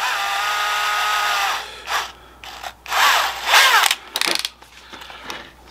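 A DeWalt power drill bores through an automotive air box during a V8 swap into a Chevrolet S10 Blazer, with a steady whine for the first stretch, then several shorter bursts of spinning and grinding as the bit punches through.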